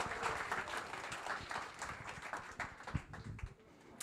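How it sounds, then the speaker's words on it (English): Audience applause at a board of trustees meeting with residents, a moderate, fairly close patter of many hands clapping that continues steadily and thins out near the end. "A round of applause for her."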